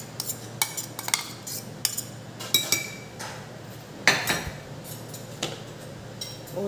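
Coarsely ground corn for a corn paneer sandwich is scooped into a bowl, with repeated light clinks and taps of a spoon against the dish spaced irregularly through the clip.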